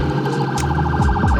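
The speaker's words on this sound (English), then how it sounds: "you could easily hear that ambulance coming" An ambulance siren sounds close and loud from passing traffic, its rapid warbling tone cycling steadily for a brief moment.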